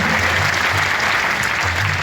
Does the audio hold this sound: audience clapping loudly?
yes